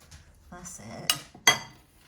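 A spoon mixes plain flour into a Christmas cake mixture in a bowl, making soft scraping followed by two sharp clinks against the bowl, close and brief.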